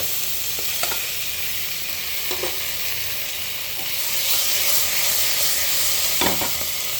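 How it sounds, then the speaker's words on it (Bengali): Vegetables with turmeric and salt sizzle and are stirred in a pressure cooker, a steady loud hiss of frying broken by scraping stirs, with no voices. "দেওয়ার পরে আরেকটু নাড়া চাড়া আরেকটু হালকা ভাজা হতে দিব এটাকে"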